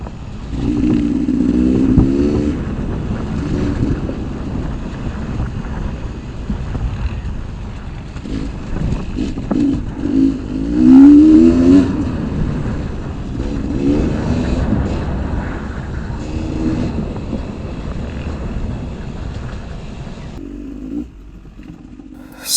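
Two-stroke enduro motorcycles, a Yamaha YZ250X and a Beta 300RR, ride and rev off-road, with engine drone rising and falling through repeated throttle bursts, loud and close, before cutting off near the end.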